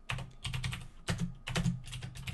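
Java code is typed on a computer keyboard in quick bursts of close, crisp key clicks, with brief pauses between runs. No voices are heard.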